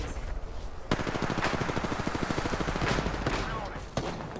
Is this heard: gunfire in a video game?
yes